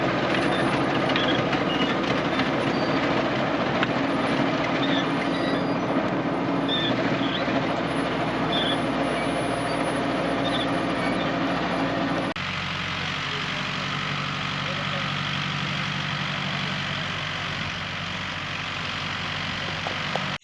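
A tractor engine drones steadily through row-seeding of pesticide-free carrots in a field, a constant loud rumble with rattling machinery that drops slightly in tone partway through, and no voices.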